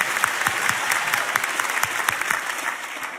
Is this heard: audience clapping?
yes